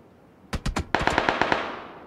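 Full-auto AK rifle fire in a video game, heard from the receiving end: three sharp shots and then a quick rattling burst of about six more, fairly distant and moderately loud.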